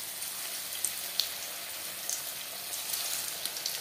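Battered cauliflower pakoras go into hot refined oil and fry with a continuous bright crackling sizzle, dotted with small sharp pops, close and steady, with no voices.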